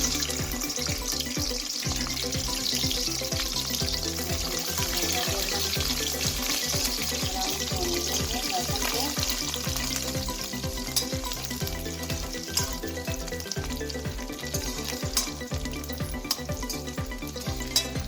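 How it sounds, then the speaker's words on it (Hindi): Steady, dense sizzling of garlic, after cumin, frying in hot oil, continuous and close, with occasional light crackles and no voices. "इसमें हम डालेंगे जीरा, फिर लहसुन"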